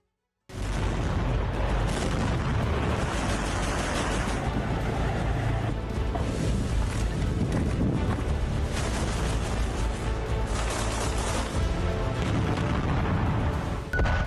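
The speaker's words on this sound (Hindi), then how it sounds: "धमाके" Continuous heavy rumbling and booming blasts, dense and loud throughout, like a sustained barrage of explosions from the war in Ukraine, with no voices.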